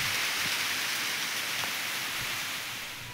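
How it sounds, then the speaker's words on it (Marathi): A light rain falls as a steady, even hiss that fills the whole stretch, fading slightly toward the end, with no voices. "थोडा पाऊस आला पण"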